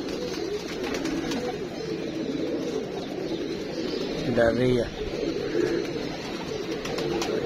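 Pigeons coo once or twice mid-distance in a loft setting, a short low throaty burst around the middle, while someone talks steadily over steady background noise.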